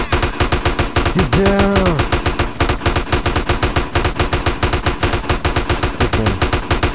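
Rapid automatic gunfire in GTA San Andreas, a loud, steady stream of close shots hammering without pause while voices shout briefly over it.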